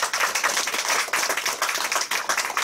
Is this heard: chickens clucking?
no